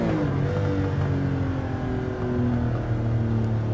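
Porsche 911 Carrera RS (964) engine in Gran Turismo 7, a loud, continuous flat-six drone whose pitch climbs and drops as it revs up and shifts through slow gear changes, with no talk over it.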